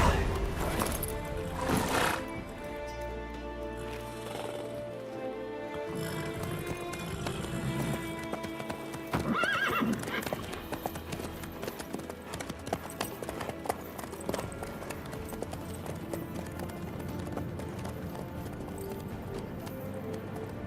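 In the game Witcher 3, horse hooves clip-clop steadily with occasional neighs, running under music and ambient sound, with brief talk between characters.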